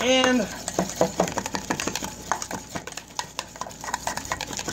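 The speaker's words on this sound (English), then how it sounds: "And just mix that all right up." A spoon or fork stirs sweet candied deviled egg filling in a bowl, making quick, irregular clinks and soft scrapes. A voice speaks briefly at the start.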